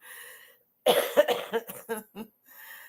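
A loud close-up coughing fit, a cluster of rough, rapid coughs after a brief silence, trailing off into quieter sounds.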